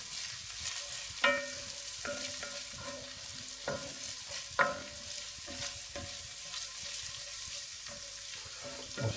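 Ginger and garlic fry gently in a pan under a soft, steady sizzle, punctuated by occasional spoon taps and scrapes as they are stirred; close by and fairly quiet, with no voices.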